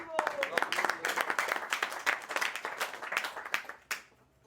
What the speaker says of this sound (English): Applaud, well done.